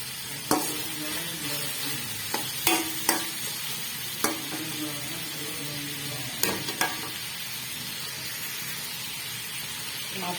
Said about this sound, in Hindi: इंशाल्लाह टमाटर डाल के भूनते हैं इसको।